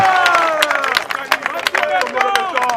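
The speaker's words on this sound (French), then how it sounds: "Applaudissez pour le président de la République." Political party crowd in Kinshasa clapping and cheering for the president, loud rhythmic claps mixed with shouting voices and chanting tones close by.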